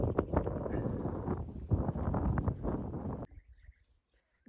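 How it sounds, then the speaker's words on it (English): Strong outdoor wind buffets the microphone in dense rumbling gusts for about three seconds, then cuts off abruptly, leaving near-quiet with only faint ambient sounds. "Usually I'd be kind of annoyed that there's wind when I'm trying to record"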